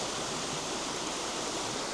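Steady rushing water of a creek flowing at Cedar Creek in Montana, a continuous broadband wash heard close and fairly loud with no voices.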